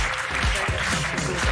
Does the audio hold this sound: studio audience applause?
yes